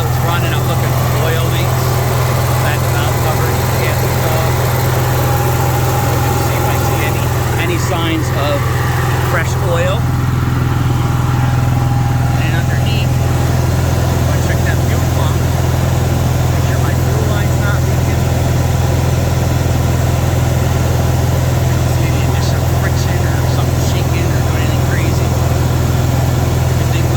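An Onan 5500 RV generator engine runs at a steady, loud hum with a constant low drone throughout, and a person talks over it at times.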